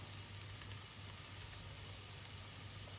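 Tomato paste sizzles in a pot of beef stew base, a steady, fairly quiet broadband hiss with a low hum underneath, continuous throughout with no voices.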